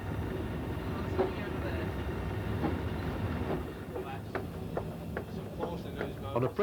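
A 1986 train from Portsmouth to Cardiff, heard from the cab, keeps up a steady low rumble as it runs on the rails, with rhythmic clicks and knocks over the joints.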